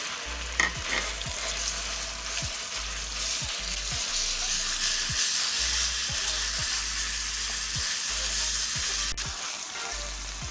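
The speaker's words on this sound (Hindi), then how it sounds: "ये कीमे को फ्राई करते हुए 1 चम्मच गरम मसाले का शामिल करेंगे और अच्छी तरह कीमे को फ्राई कर लेंगे।" Minced keema frying with golden garlic in a pan: a steady, close hiss of hot oil with regular scraping stirs of the spoon, moderately loud and without speech.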